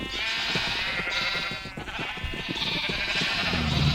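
Sheep bleat repeatedly in a video game, several overlapping calls over busy game sound and music, fairly loud and continuous throughout.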